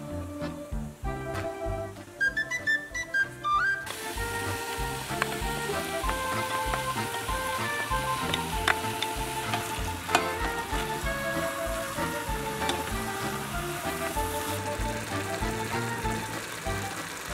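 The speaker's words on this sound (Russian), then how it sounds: "Теперь добавим нашу свеклу нашим овощам и будем жарить все вместе." Grated beetroot and vegetables fry together in a pan for borscht, giving a continuous close sizzle with a few stirring clicks under background music.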